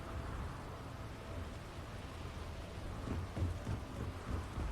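Steady rain falls with low rumbling thunder on a dark planet in Starfield, a constant wash of downpour with a few deeper rolls near the end, no voices.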